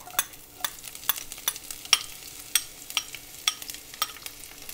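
Thinly sliced half onion stirred into Brussels sprouts frying in a pan for an Indian-style stir fry, giving a steady soft sizzle broken by repeated sharp scraping clicks of a spoon against the pan, with no talking.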